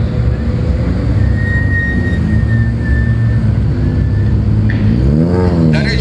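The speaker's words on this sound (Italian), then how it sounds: "Un'altra piccola della casa del Leone Francesi, la 208 VTI" A Peugeot 208 VTi rally car at the start of a stage at Rally Città di Modena 2019, a steady engine drone at the line before the revs climb sharply as it pulls away, loud and close.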